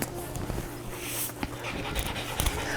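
A dog pants steadily while being brushed at home, quick breathy huffs repeating close by throughout with soft rustling of grooming.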